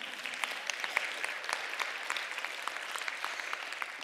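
Conference audience applauds a speaker at a talk on women and investment, steady crowd clapping with sharp individual claps throughout, fairly faint and without talk.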